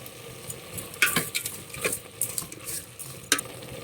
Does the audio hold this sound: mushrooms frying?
yes